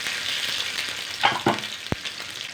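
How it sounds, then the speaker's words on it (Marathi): Garlic and green chilies fry in hot oil on a griddle, producing a bright, close sizzle with a few sharp stirring clicks and scrapes and no voices. "आता याच्यामध्ये मी लसूण आणि मिरची टाकून घे"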